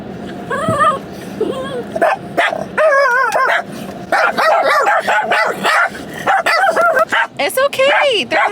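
Several dogs bark and yip in sharp bursts around a car going through a car wash, loud and close, with whimpers between, while people talk soothingly over them.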